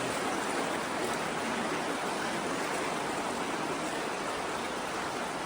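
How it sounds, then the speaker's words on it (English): Floodwater rushes through the Otford railway tunnel in a loud, constant broadband roar, steady and unbroken throughout with no voices. "This is just crazy, the amount of water that's coming through here at the moment."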